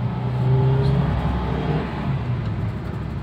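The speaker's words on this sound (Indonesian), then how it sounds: "Pas kita gas dia langsung ngisi, langsung naik, RPM-nya halus, naiknya halus gitu" A 2015 Toyota Avanza engine pulls smoothly as it accelerates in fifth gear while driving, a steady low hum with a gentle rise in revs, heard from inside the car.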